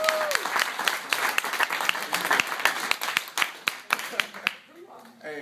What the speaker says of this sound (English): help me give a warm round of applause to Matt